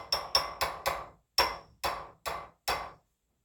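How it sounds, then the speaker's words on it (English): A fork taps against the side of a bowl while coating cake pops in chocolate: eight sharp, ringing clinks in two groups of four, close and clear, each fading quickly. "Just tap your fork against the side because you don't want a lot of runoff."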